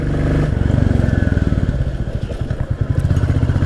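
A 2022 Royal Enfield Classic 350 single-cylinder engine thumps steadily and loudly while riding, with a fast, even pulse and a slight rise in pace partway through.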